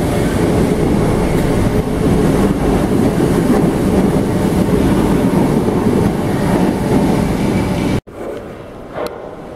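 A Class 508 electric train departs underground Liverpool Central station with a loud, steady rumble of wheels and motors close by, which cuts off abruptly to a quieter platform ambience near the end.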